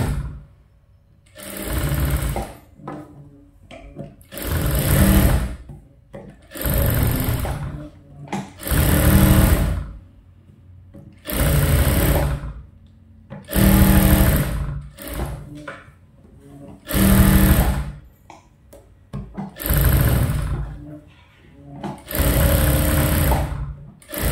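A sewing machine stitches a 1/4-inch seam around a princess-cut blouse, starting from the shoulder, in about ten loud, close bursts of rapid mechanical whirring separated by short pauses.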